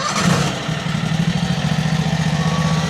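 Takeuchi XZ20R mini excavator diesel engine starting and settling into a close, loud, steady pulsing idle with no talk.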